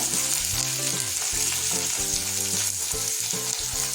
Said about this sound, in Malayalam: ഇനി ഇതിലേക്ക് അല്പം ഉപ്പും ഇട്ട് മഞ്ഞൾപ്പൊടി ഇട്ട് നന്നായിട്ട് വഴറ്റിയെടുക്കുക